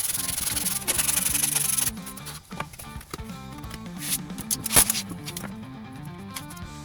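Steady rubbing of sandpaper on the wing of an RC model airplane, close and continuous, with brief pauses and shifts in stroke pace.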